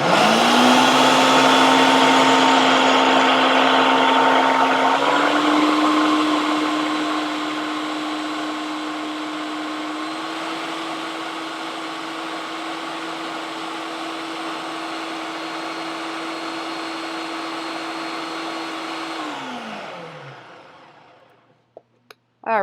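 A blender purees kale and lemon sauce in one loud, steady whir that drops slightly in pitch partway through, then winds down to a stop near the end, followed by a few faint clicks.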